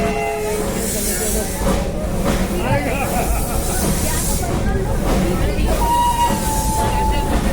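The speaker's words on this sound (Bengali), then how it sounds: "আমাদের ট্রেন এখন ছেড়ে দিচ্ছি দার্জিলিং বাতাসিয়া লুপ স্টেশন থেকে।" Darjeeling Himalayan Railway steam toy train pulling out of Batasia Loop station in Darjeeling, a steady rumbling roll with hiss and a horn-like tone near the end, under continuous crowd chatter and voices nearby.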